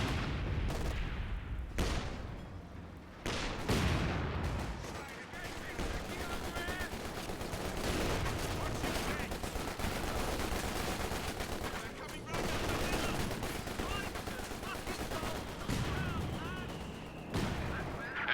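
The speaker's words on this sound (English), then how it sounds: "anti-tank gun ready to do some damage. Got some hits there onto the OKW Panzer IV." Dense battle audio from the World War II strategy game Company of Heroes 2: anti-tank gun shots amid continuous machine-gun fire and explosions, loud and constant, with a commentator talking over it.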